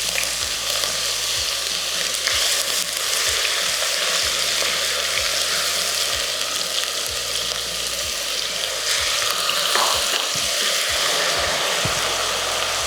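Chopped onion frying in browned sugar in a pan, a steady loud sizzle running through the whole stretch with faint stirring scrapes and no talk.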